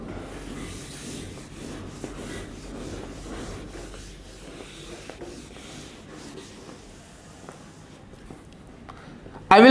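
A drawing is wiped off a lecture board, a long soft scrubbing and rubbing texture that continues steadily at moderate level, ending with a sharp louder bump.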